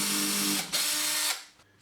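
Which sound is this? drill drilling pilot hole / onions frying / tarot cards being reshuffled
drill drilling pilot hole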